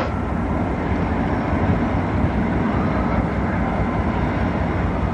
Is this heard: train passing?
yes